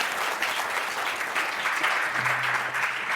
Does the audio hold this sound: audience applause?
yes